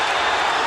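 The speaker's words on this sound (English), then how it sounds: "the Naseem advocates in the crowd boo that" A boxing arena crowd at the Naseem Hamed versus Kevin Kelley fight boos a knockdown, a brief, dense roar of many voices with a commentator speaking over it.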